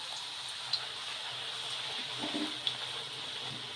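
Puri made with green gram deep-fries in hot oil while being pressed to puff, giving a steady, close, bright sizzling hiss with a few faint pops and no talking.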